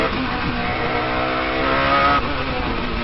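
A race car on the Nürburgring weaves to heat its tyres. The engine drones loudly and steadily at high revs with a rising tone from inside the car, and there is a brief shift near the end.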